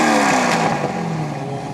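A twin-turbo Lamborghini engine revs loud and close, a sustained roaring drone that sweeps slightly upward and then eases back.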